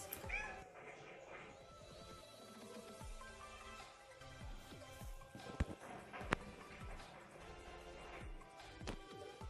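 A cat meows repeatedly indoors, its cries rising and falling among scattered thumps and background clatter, with some faint voices nearby.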